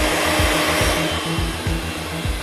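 A hair dryer blows steadily close by while hair is blow-dried with a brush, a loud continuous whoosh with a faint rhythmic pulsing, and no voices.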